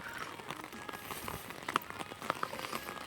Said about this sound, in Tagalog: Everyone, it's raining here